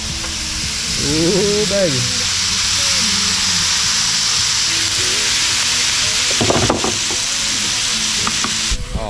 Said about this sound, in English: Oh man, that bacon smells so good already.